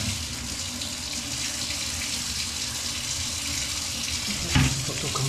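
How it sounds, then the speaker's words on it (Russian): A bathtub tap runs water in a steady, hissing close stream, with a brief clunk near the end and no voices. "теперь давайте ванну откроем, проверим"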